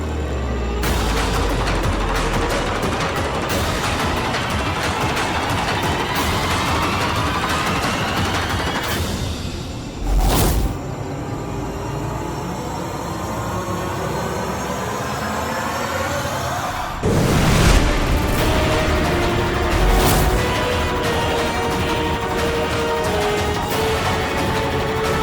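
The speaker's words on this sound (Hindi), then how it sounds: "पूजा, चला गोली।" Loud, dense bursts of gunfire fill a dramatic TV scene, rapid overlapping shots and booms running continuously with two sharper blasts partway through, no speech.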